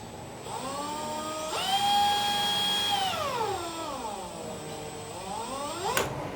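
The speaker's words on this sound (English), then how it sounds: "I've got to clamp down my drill, should buy a vise too I suppose, and install one of these little sanding discs on there" An electric drill clamped down with a small sanding disc fitted, whining steadily as its speed is raised, held, lowered and raised again, a loud close motor tone with a click near the end.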